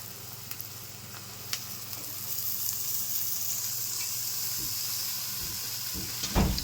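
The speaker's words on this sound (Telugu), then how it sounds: "ఇప్పుడు ఇందులో తోటకూర వేసేసుకుందాం." Amaranth leaves drop into a pan of half-cooked frying onions, and a steady close sizzle swells up and holds as they hit the hot oil, with a few soft stirring knocks and no voices.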